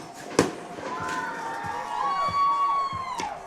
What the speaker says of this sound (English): you hear and see the fireworks as they celebrate the touchdown